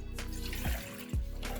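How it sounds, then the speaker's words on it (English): Water running from a tap and splashing into a pan for a sugar syrup, two short pours heard close up, with a steady hiss throughout. "For the sugar syrup, I'm going to add in some water,"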